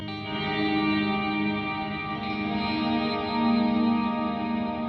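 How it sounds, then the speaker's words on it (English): Clean electric guitar notes washed in heavy, long reverb, ringing and blurring together in a sustained, shimmering wash at moderate volume. "smash the time, smash the wetness of the reverb, and just kind of go all out"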